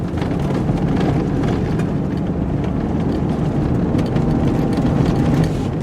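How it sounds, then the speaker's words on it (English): A 2017 Ford F-150 Raptor engine pulls hard in third gear, a loud, steady, close engine roar that holds level throughout with no voices. "use the paddle shifters to lock it in the gear you need, in this case third gear, then hit the throttle and go."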